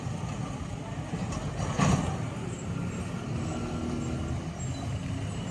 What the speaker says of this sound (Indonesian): dari arah belakang kita ada truk tangki BBM Pertamina